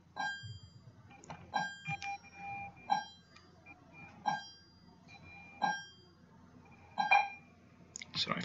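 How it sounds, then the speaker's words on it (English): Bell dinging repeatedly, about seven sharp bright strikes at uneven intervals, each one ringing briefly over a quiet room. "Sorry for the bell."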